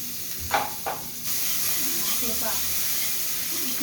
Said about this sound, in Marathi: लसूण आणि हिरवी मिरचीची पेस्ट बनवून घेतली आहे मी तर ही आपल्याला आपल्या आवडीनुसार अशी टाकायची परतून घ्यायची